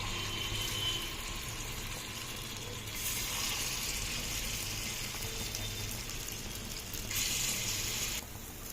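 Gunta ponganalu batter made from idli batter sizzles in hot oil in a paniyaram pan, a steady soft crackling hiss that swells in brighter bursts, close and fairly quiet with no talk.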